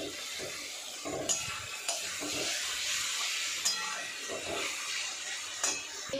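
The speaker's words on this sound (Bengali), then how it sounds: "তো দেখো এখানে আমি পটল চিংড়ি কষাতে শুরু করে দিয়েছি" Pointed gourd and shrimp sautéing in a pan make a steady close sizzle with intermittent stirring scrapes and soft clinks, with no voices.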